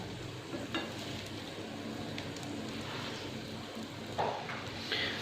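A potato omelette fries in a pan, giving a steady, even sizzle throughout with a few faint clinks and scrapes on top.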